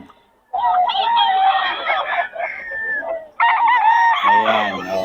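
Gilmore bull stag roosters crow loudly and close by, two long, full crows in a row separated by a short gap.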